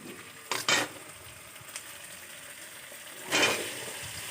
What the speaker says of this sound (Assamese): আলুখিনি ঢালি দিয়াৰ পিছত ভালদৰে লৰাই দিম